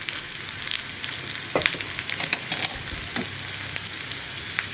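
Sliced onion rounds frying with mustard seeds in a pan for a green gram and ash gourd curry, a steady close sizzle crackling with sharp spattering pops and stirring scrapes.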